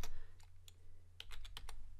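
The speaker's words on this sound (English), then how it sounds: "I'll type ipconfig," A computer keyboard typed on in short bursts, a handful of light, quick clicks close by over a low steady hum, with no voices.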